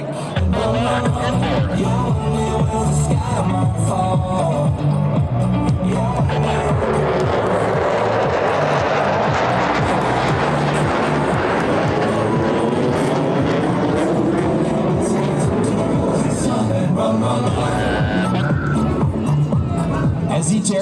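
US Navy Blue Angels jets in formation roar over an airshow crowd, a loud sustained jet-engine drone that swells and sweeps across the whole stretch, with a public-address voice and crowd murmur underneath.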